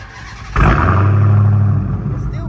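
A 2019 Dodge Challenger Hellcat widebody with straight-pipe dual exhaust revs up sharply after a brief pause, then holds a deep, loud rumble close by before easing slightly, with people talking over it.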